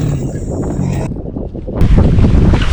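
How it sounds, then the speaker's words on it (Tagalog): Strong wind roars across a small boat at sea, a steady loud rush of gusting noise with a heavier blast near the end and no talk over it. "Nadadala tayo ng hangin."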